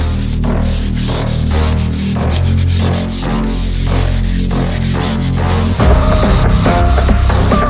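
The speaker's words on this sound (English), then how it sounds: "The second step will be sanding with 120 grit sandpaper." Sandpaper of 120 grit rubs over a varnished wooden surface before painting, a loud, close, steady rasping scrub in quick back-and-forth strokes that continues alone with no speech.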